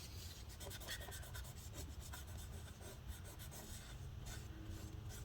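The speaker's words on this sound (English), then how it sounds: "we're going to continue wiping it." Rubbing strokes of a cloth wiping a part of a Gigabyte Aero 15 laptop during disassembly, quiet repeated scrubbing swipes heard close up with no speech.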